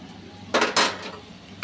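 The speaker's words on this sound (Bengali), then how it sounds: "এটা এখন নেড়ে দিই একটু উল্টা পাল্টাইয়া" A spatula turns prawns, potatoes and okra in a frying pan, giving two short scraping, clattering bursts of utensil against metal, fairly close, with quiet gaps around them and no talk.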